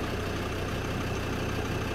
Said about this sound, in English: Excuse the engine noise, obviously it's running at the minute.